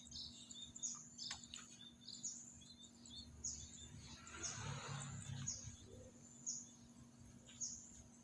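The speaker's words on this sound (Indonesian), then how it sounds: "saya mau ngasih makan burung murai kesenangan saya nih, yang tiap pagi dan sore berkicau" Magpie-robin (murai) singing in the morning, with a series of faint, high, repeated chirps and whistled notes over a quiet background hum and soft rustling.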